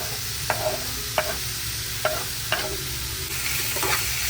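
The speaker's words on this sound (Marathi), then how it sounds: "टोमॅटो सुद्धा छान असं परतूया मऊ होईपर्यंत" Chopped onion and tomatoes sautéing in a pan for a Konkan-style sour prawn masala, a steady sizzle with a spatula stirring and scraping the pan about every second, close and without talk.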